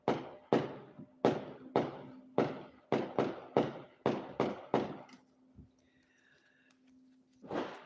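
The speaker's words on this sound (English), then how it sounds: "Oh, they're really going off upside somewhere. Hear the gunshots? Oh, they're the fireworks." Outdoor New Year fireworks go off in a rapid series of about a dozen sharp bangs, each trailing a short echo, then a brief lull before another burst, with a faint steady hum underneath.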